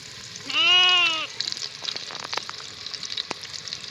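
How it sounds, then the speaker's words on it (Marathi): Garlic in hot oil crackles and sizzles steadily at close range, with a brief high, wavering bleat-like tone near the start. "तेल गरम झालं या लसूण टाकते त्यात"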